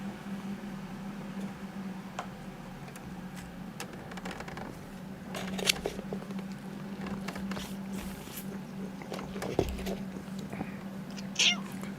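A cat meows several times at close range while it tries to get into a box, its cries spread over a steady indoor hum, with a few soft taps and rustles between them.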